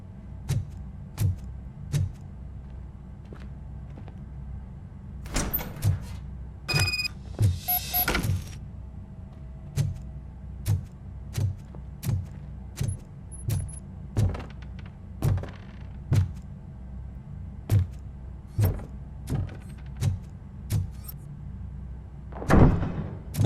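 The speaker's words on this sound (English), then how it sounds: "Now let me get that door open for you." A door is worked open in RoboCop: Rogue City with a long run of regular heavy mechanical thunks and clanks, punctuated by a few brighter metallic bursts, close and fairly loud throughout.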